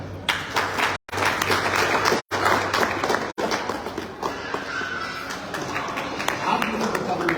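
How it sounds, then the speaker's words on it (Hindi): Loud audience applause at a wellness company's luxury car achievers stage event, dense clapping filling the hall for several seconds with brief cuts, a voice speaking over part of it. "उनके लिए जोरदार तालियां।"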